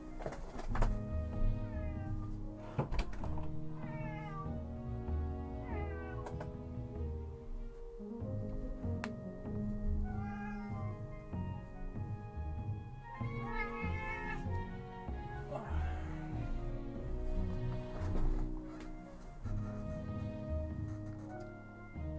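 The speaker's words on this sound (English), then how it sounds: "My cat's freaking out." A house cat meows repeatedly and insistently, long drawn-out wailing calls rising and falling in pitch, some close to caterwauling, spaced across the stretch over a background of low music or game sounds.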